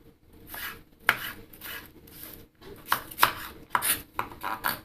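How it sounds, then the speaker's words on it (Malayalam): Knife chopping cabbage finely on a board for vegetable noodle balls, a run of quick, uneven cuts in bursts with brief pauses, close and fairly clear with no talking. "ഇനി ഈ കാബേജ് ഒന്ന് ചെറുതായിട്ട് അരിഞ്ഞെടുക്കാം."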